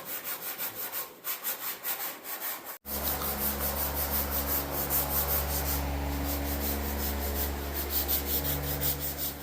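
Steady, close scraping and rubbing of a sanding block worked by hand over bad spots on a car body panel in a shop, continuous after a brief pause near the start, with a constant low hum in the background.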